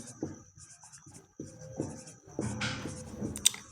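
Pen scratching on paper while a Class 10 polynomial division problem is written out, with short strokes and pauses and a louder scribbling burst near the end, close and quiet, with no talk.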